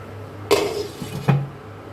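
A lid set onto a cooking pot while making Bengali shukto, two short metallic clinks about a second apart, close and fairly loud against a quiet background.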